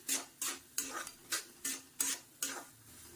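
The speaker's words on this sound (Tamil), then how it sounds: "அதனால இவங்களெல்லாம் ஒன்றாவே நம்ம வந்து வறுத்துக்க போகிறோம்" Rava and other ingredients dry-roasted together in a pan over medium flame for rava kesari, a spoon scraping and stirring in a steady rhythm of about seven sharp strokes, close and fairly quiet with no talking.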